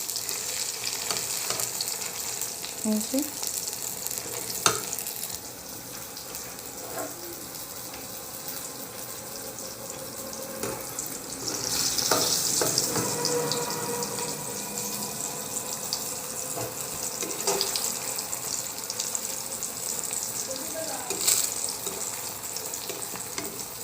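Eggplant slices sizzle and crackle in hot oil in a home kitchen, a steady close frying hiss with occasional pops and light clinks as pieces are lifted out, no one speaking.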